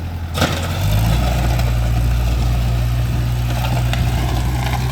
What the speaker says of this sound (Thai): รถไถสี่สิบเจ็ดแรง นะครับ